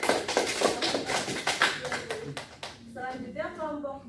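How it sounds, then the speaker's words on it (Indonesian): A group of students claps for a classmate after a presentation in a school classroom. The clapping is brisk and scattered, fades out after a couple of seconds, and a voice starts speaking at the end. "Beri tepuk tangan kepada Moza."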